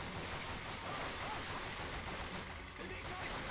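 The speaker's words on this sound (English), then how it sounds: "Alright, so R2, shoot the machine gun." Dense, continuous machine gun fire from the Call of Duty: Finest Hour video game roars loudly throughout, a sustained barrage of rapid overlapping shots.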